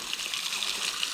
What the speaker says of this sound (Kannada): ಆ ಕೆನಲ್ ನೀರು ನೋಡಿ, ಮೇಲಿಂದ ಹೀಗೆ ಬಿದ್ದು